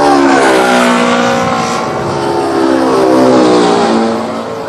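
A loud airplane engine roar sweeps past at Hong Kong International Airport with a sliding, falling Doppler pitch, swelling then fading slightly as it moves away.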